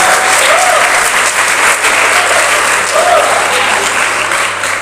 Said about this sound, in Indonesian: ayo kita beri tepuk tangan kepada semua anak-anak remaja kita bersama di KPB kita